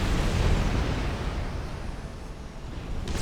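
Artillery fire in Supreme Commander Forged Alliance, a dense rumbling burst of explosive booms that swells early and then slowly rolls off, with no voices.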